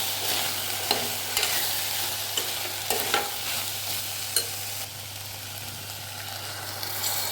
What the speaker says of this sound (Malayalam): പെരുംജീരകം പൊടിച്ചത് ഇട്ട് കൊടുക്കുക എന്നിട്ടൊന്നുകൂടി ഇളക്കി യോജിപ്പിച്ചതിന് ശേഷം